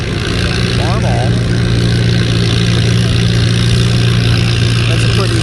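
An antique Farmall tractor in the 3,000-pound class runs at a tractor pull with a loud, steady, low-pitched engine drone, while an announcer talks over it.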